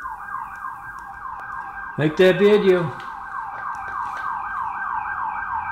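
An emergency siren wails in a rapid, repeating up-and-down sweep, loud and steady throughout, with a short burst of voice cutting in briefly partway through.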